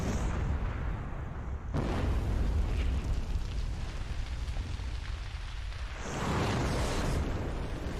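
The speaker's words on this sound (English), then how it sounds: "a larger-than-life, completely unnecessary, gratuitous explosion" A deep, roaring explosion rumble from the animated series Red vs Blue, with a sudden loud burst, followed by a sustained crackling roar and another surge of blast noise.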